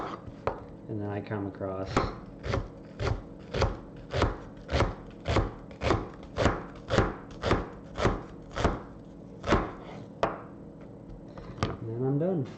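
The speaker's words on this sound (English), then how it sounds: "So I still cut my onions the lazy way." Onions sliced diagonally straight down with a knife, a steady run of sharp, evenly spaced chops on a cutting board, close and clear, with a person talking briefly at the start and end.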